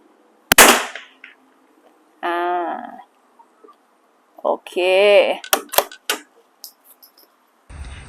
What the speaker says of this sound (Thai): เริ่ม ยิงนัดแรกนะคะ เล็งกลางเลยนะ